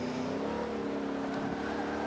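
A Speed GT500 race car engine drones hard and close in Forza 5, holding a loud, sustained high-revving tone with slight pitch shifts as it races.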